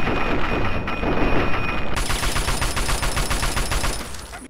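Video game gunfire in the post-apocalyptic Capital Wasteland: loud, rapid bursts of shots in a quick rhythmic string, the automatic fire picking up partway through, with no talking over it.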